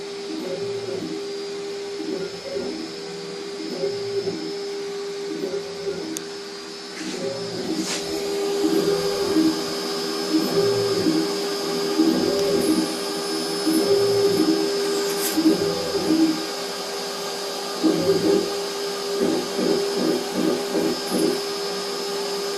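A Probotix X90 CNC machine mills ABS plastic with a steady motor whine and a rhythmic, pulsing cutting drone that rises and falls in repeated passes, continuous and fairly loud throughout.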